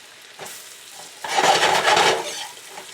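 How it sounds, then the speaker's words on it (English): Loud sizzling and crackling of beef frying in hot fat in a pan, starting softly then bursting into a strong, steady hiss for over a second. "You want that fat sizzling when you get this in here."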